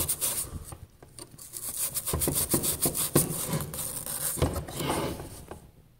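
Sandpaper scrubs corrosion off a printed circuit board in quick, uneven back-and-forth strokes, a close, dry rasping that rises and falls with each pass before trailing off.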